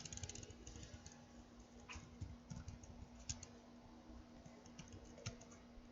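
Computer keyboard typing while network interfaces are configured: steady, quiet patter of keystrokes running throughout over a low constant hum, with occasional slightly louder clicks.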